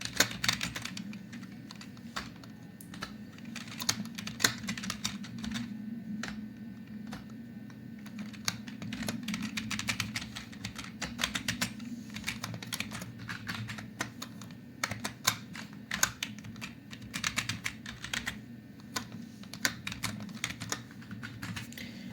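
Steady computer keyboard typing runs throughout, rapid irregular key clicks at moderate level over a low indoor hum, with no voices.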